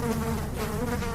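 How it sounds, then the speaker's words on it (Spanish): A dense cloud of flies buzzing as a sound effect, a loud, steady, close drone of many wings with no pauses. "Una nube de moscas les golpeó el cuerpo, los brazos y la cara."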